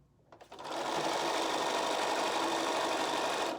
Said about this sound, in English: we're going to line those edges up and stitch 1/4 inch